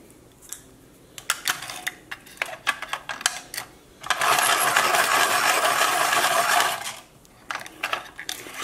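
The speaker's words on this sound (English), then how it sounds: "So it does a nice job sharpening pastel pencils." A pastel pencil is turned in a sharpener, giving scattered clicks and scraping taps, then a sustained grinding whir lasting about three seconds, followed by more small clicks.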